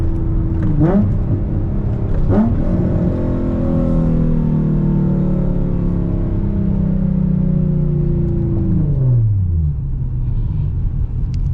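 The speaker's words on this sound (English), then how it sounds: "Here, a little downshift." Tuned E85 Nissan 350Z Nismo, engine loud and close from inside the car: two sharp throttle blips on downshifts, then a long sustained drone whose pitch slowly falls before dropping away near the end.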